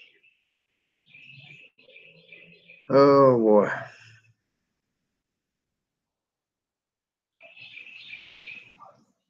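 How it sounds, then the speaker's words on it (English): Birds call and chirp outdoors near a campfire cooking spot as the sun goes down, faint scattered chirps early and late, with a man's brief spoken exclamation in between. "Boy, the birds are singing."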